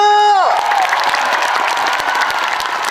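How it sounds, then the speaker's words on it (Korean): Concert audience at an outdoor October concert in Ganghwa applauding and cheering for a trot singer; dense, loud crowd noise rises as a sustained synth tone drops away, continuing steadily throughout. "박수가 약한가 봐 여러분 박수"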